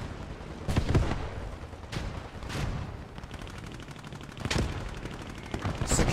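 Gunfire crackles through an infantry push in the World War II shooter Post Scriptum: scattered rifle shots and short bursts, some sharp and near, others duller and distant, separated by uneven pauses over a low battlefield rumble.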